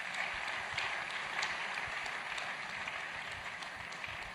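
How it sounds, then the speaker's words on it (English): Sustained applause from an audience at a tech fair event, a steady wash of many hands clapping fairly loud and even throughout, with no individual voices standing out. "Please give them a round of applause."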